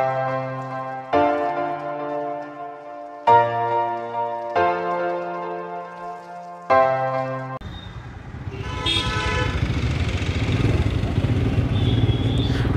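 A Royal Enfield Himalayan motorcycle sounds several loud horn toots in a broken sequence, then its engine and road noise rise into a steady close rumble with wind as it rides on from Malbazar through North Bengal tea gardens.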